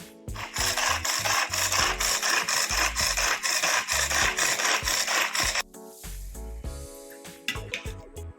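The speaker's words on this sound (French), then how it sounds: "On va hacher l'ail aussi." A knife chops garlic on a cutting board in a home kitchen, making fast, steady knocks close up with a gritty scraping texture, then slower, sparser taps.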